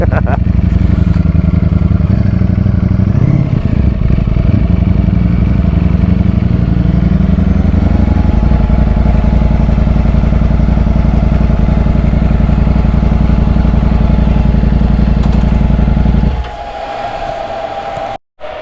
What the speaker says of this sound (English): So the fans kicked in there. These bikes do get a little bit warm very quickly.